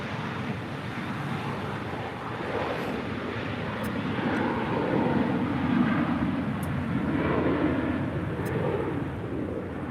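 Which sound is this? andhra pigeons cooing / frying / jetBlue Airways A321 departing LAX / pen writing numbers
jetBlue Airways A321 departing LAX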